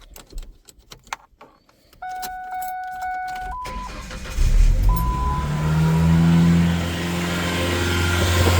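A Ford Ranger 2.5 engine with a high idle issue starts up: keys jangle and a chime tones, the starter cranks, then the engine catches and settles into a loud, steady, elevated idle.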